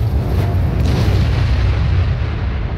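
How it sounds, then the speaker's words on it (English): A loud, sustained explosion from the puzzle video game Q.U.B.E.: a dense, roaring rumble holds steady for nearly three seconds with no voice over it. "And explosion."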